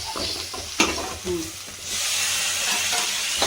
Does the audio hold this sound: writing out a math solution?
no